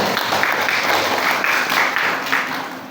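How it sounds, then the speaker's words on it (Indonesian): An audience at a school literature performance applauds, a continuous crackle of many hands clapping at moderate level throughout, with a faint hum of the hall underneath. "Iya, tepuk tangan untuk kita semua."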